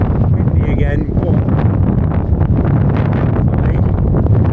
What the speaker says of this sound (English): As you can see, it's windy again.